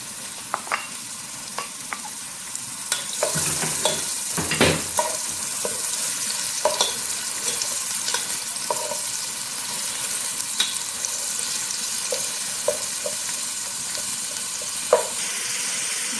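Chopped onions sizzle steadily in hot olive oil in a pan, a dense continuous frying hiss punctuated by scattered clinks and scrapes of a utensil stirring, close and with no talk.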